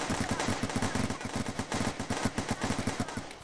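Rapid automatic gunfire from a cyberpunk-style shooter game, a steady rattling stream of close, loud shots over about three seconds with no talk.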